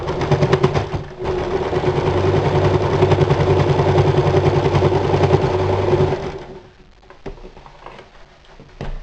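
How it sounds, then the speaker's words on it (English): Sewing machine stitching an X through a pot holder on a holiday apron pocket, a fast steady mechanical chatter running several seconds after a brief start, then stopping into quieter handling noises. "to make sure the pot holder stays in its pocket in place, I'm just going to sew an X through it"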